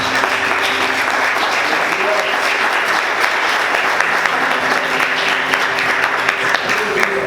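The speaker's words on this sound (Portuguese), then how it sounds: "Vamos aplaudir o Senhor" A church congregation applauds in a dense, sustained wash of clapping that is loud and steady throughout, with voices faintly mixed in.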